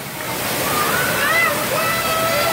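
Red buckets tip and dump water onto a beach-house water play area, giving a steady, loud rushing splash that swells slightly mid-way with no break.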